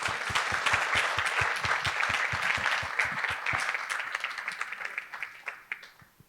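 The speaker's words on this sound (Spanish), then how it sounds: "Por eso pido un fuerte aplauso por este apoyo." Audience applause at a farewell event, a brisk burst of many hands clapping that stays full for a few seconds, then thins into scattered individual claps as it dies away.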